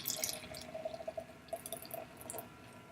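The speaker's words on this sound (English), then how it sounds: "I decided to pour it into a wine glass" Underwood Riesling Radler canned wine poured into a wine glass, a close stream of liquid with quick, bubbly dripping splashes that trail off.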